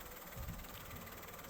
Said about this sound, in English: And the engine's very quiet.